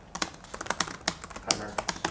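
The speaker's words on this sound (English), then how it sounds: "I can continue typing using my keyboard on the PC." Rapid, irregular key clicks from typing on a PC computer keyboard, close and fairly crisp, with brief pauses between bursts and no talk over it.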